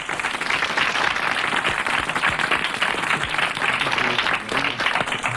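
A French studio audience applauds on a 1980s radio comedy panel show, with steady, full clapping that runs without a break for about five seconds.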